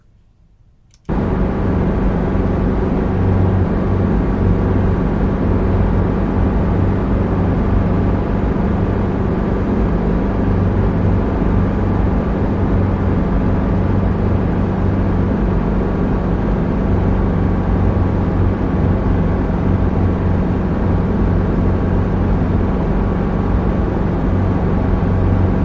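Helicopter in flight on a steep approach, a loud, steady rotor and engine drone with strong low hum that holds constant throughout after a sudden start, with no talking.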